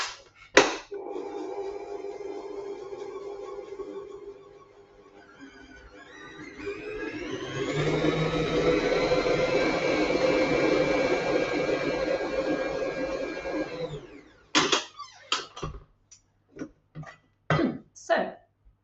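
Victoria sponge batter being mixed after adding egg and a portion of dry ingredients, a steady whirring mixer drone lasting several seconds, framed by scattered clatter and knocks before and after.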